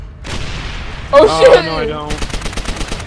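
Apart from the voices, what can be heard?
tank firing and gunfire in the video game Call of Duty: World at War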